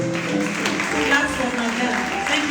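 Audience applause at a university inaugural lecture, steady clapping filling the hall for about two seconds with voices and speech mixed in underneath.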